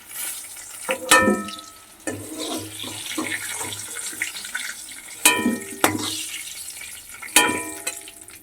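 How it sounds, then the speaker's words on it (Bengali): Cauliflower fries in oil in a pan for a duck egg recipe: a moderate sizzle runs underneath while several sharp metallic clinks and scrapes from a utensil cut in at intervals. "এবার আমি ফুলকপিগুলোকে একইভাবে ভেজে নেব"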